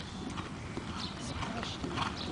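Horse hooves clip-clop steadily at a college in Berkshire, the rhythmic footfalls close and fairly loud over a busy outdoor background, with people talking nearby.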